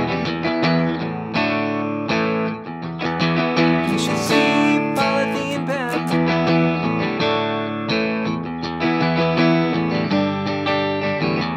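Electric guitar plays a song from its intro onward, with a distorted, effected tone and dense sustained chords that ring continuously at steady loudness, no voices.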